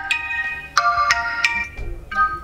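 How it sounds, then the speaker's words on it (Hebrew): A Xiaomi Redmi 4 phone plays a ringtone through its loudspeaker at full volume, a bright, repeating electronic melody of evenly spaced notes, close and alone. "בואו נדליק איזשהו צליל, לא, רינגטון"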